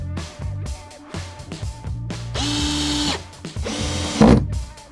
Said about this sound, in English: screw them to the floor with self-tapping screws